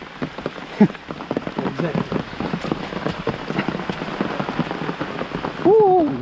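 Heavy rain pours steadily onto the forest around Yana Caves in Karnataka, India, a dense, constant patter that dominates the scene with a brief animal-like call near the end.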